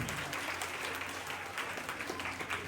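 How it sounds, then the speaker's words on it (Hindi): An audience claps at an award ceremony for police constable recruits, a continuous, fairly even burst of applause held throughout, somewhat distant and soft. "तो इनके लिए जोरदार तालियों से स्वागत हो"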